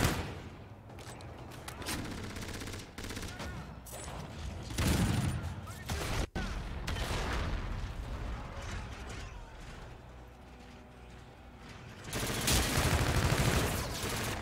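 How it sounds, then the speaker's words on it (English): Submachine gun fire in Call of Duty: Infinite Warfare, rapid bursts of shots with mechanical clatter, fairly quiet overall and swelling in separate volleys amid background game noise. "I really like this SMG"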